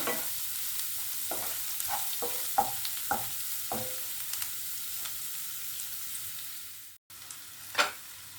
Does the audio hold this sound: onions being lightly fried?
yes